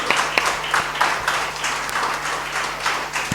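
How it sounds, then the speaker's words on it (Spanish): A church congregation applauds during a Spanish-language Sunday service, scattered hand claps with sharp individual strikes over a constant room hum and murmur. "Aplauda la palabra"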